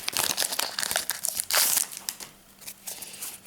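A Pokémon card booster pack is torn open and handled, producing close, crisp crinkling and rustling foil with a sharper tearing burst near the middle, fairly quiet and without speech.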